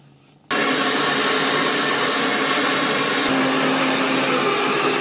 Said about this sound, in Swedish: Nu har jag spenderat en kvart på att föna mitt hår när jag hade kunnat sova nu.